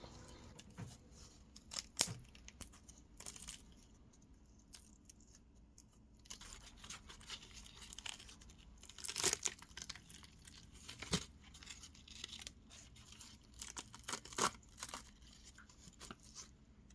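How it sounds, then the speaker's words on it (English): Silicone mold is peeled by hand off a cast dragon mask in quiet workshop surroundings, giving faint intermittent crinkling, tearing and squeaky snaps spread across the stretch. "I remove the mother mold shell and carefully peel the silicone away from our cast mask"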